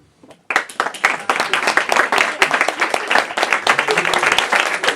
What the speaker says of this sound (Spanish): os unáis a mí en un aplauso fuerte y sincero para ese gran hombre